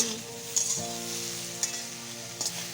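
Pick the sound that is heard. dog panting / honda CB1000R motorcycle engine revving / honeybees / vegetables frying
vegetables frying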